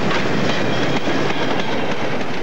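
A massive 9F steam locomotive hauls a heavy freight train of about 1,200 tons, a loud steady rolling roar with clickety-clack wheel rhythm passing close by, continuous and without speech.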